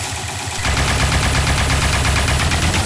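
Rapid laser gun fire in the top-down shooter Neon Chrome, a dense, continuous stream of quick shots that kicks in after a brief quieter moment and keeps going steadily at close range.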